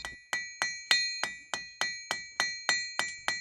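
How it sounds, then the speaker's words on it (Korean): A hammer strikes fire-heated iron wire in an Egyptian workshop, twelve sharp ringing metallic blows at an even, unhurried rhythm, each with a short decaying ring, no voices. "이 불에 달궈진 철사를 망치로 하나 둘 두들기는데"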